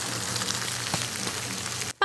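Pan-fried dumplings and buns crackling in a pan at a traditional breakfast stall in Changhua, Taiwan, a steady, dense sizzle held for about two seconds before cutting off abruptly.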